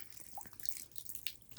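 Water drips and trickles from a leaking garden hose outdoors while watering cherry tomatoes, with soft irregular splashes and patters over a faint background wash.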